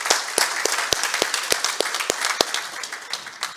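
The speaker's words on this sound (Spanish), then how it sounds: "Un fuerte aplauso para Edwin también" A church congregation claps for a first-time visitor: a modest, uneven round of hand claps with a few sharp, distinct slaps standing out, fairly close and without speech.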